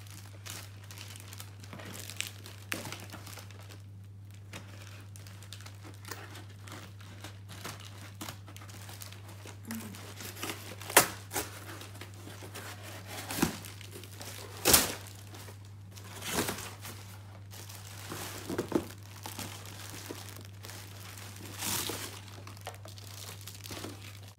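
Crinkling and rustling of plastic nylon wrapping as a Givenchy handbag package is opened, with irregular crackles, tearing and occasional thumps, fairly close and without talk.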